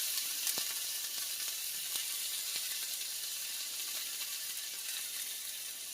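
Artichokes and cream cheese cook in a pan on a stove for spinach and artichoke dip, a steady close sizzling hiss with a few faint ticks and pops, no voices.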